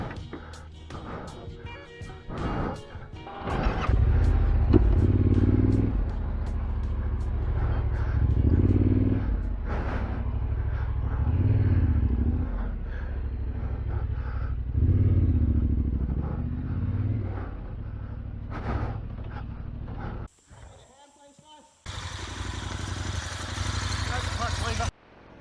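A Yamaha Tenere 700 adventure motorcycle on a forest trail in Queensland, its engine rumbling and revving close by in uneven surges as it slows and turns around, then dropping briefly before picking up again.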